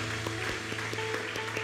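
Applause in a church service: scattered hand claps at a steady rhythm over a constant low hum, moderately faint and without talk.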